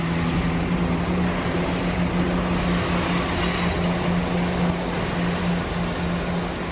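A CrossCountry passenger train bound for Stansted Airport passes near the south end of a station, a loud, continuous rumbling roar with a steady low mechanical hum throughout.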